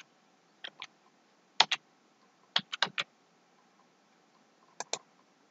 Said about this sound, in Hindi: आई एग्री पे क्लिक करना है।